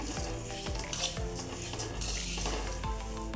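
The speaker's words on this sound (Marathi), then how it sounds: "हे पूर्ण मंद गॅसवर आपण भाजून घ्यायचे" Thalipeeth bhajni flour is roasted in a pan over a low flame, a steady soft sizzle with repeated scraping and stirring strokes of a spatula, close and continuous with no talking.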